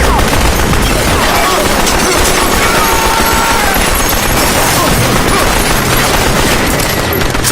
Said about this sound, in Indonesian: dua perampok tadi menembakkan senjatanya ke segala arah